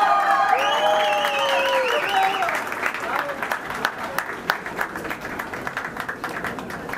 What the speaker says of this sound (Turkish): alkışlarla buraya almak istedim